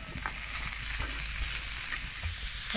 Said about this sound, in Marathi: आणि आता आपल्याला हा कांदा भाजायचा आहे आणि लसूण पण